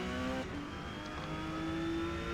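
A Porsche 911 GT2 race car in Forza Motorsport, on the R class circuit at Kyalami, holds a steady high engine whine, with one quick gear-change dip followed by a sustained rising drone.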